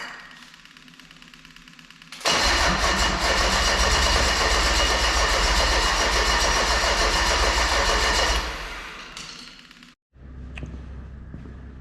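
A Mercedes OM606 diesel engine, jump-started with cables, cranks briefly, catches and runs loudly and steadily for about six seconds, then drops off and cuts out before a quieter restart.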